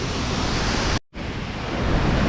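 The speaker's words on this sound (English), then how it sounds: "But that's the first waterfall that we'll meet as we come in the gate anyway." A waterfall at Fonts d'Algar on the Costa Blanca gives a dense, continuous rushing roar, loud and close, cut by one very brief dropout midway.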